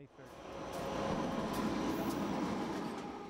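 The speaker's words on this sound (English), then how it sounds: "There's a train. See how close there." Train rumbling steadily past a crossover on Forest Glen Road in Silver Spring with no horn, swelling up loud and close and holding as the cars roll by.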